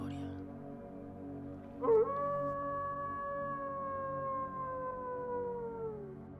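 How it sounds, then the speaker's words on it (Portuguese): A wolf's long, wavering howl rises after a brief sharp onset and holds steady for several seconds, slowly falling in pitch, over a low rumbling background. "Aquele uivo assustava todos os moradores da região."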